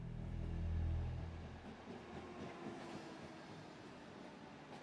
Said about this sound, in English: We arrive, the train comes to a stop.